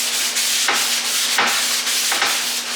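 A cloth wiping down a metal bash bar for an IS300 in steady, loud, close rubbing strokes, with brief swishes at each change of direction and no talking.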